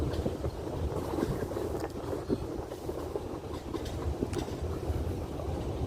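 A safari vehicle drives through Kaziranga National Park with a steady, continuous rumble and rattle of the moving vehicle and its wind noise, evenly loud throughout and with no talk.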